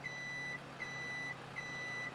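A truck's reversing alarm in the Farming Simulator 17 video game, beeping three times in an even, sustained rhythm, faint and clear over a quiet engine hum.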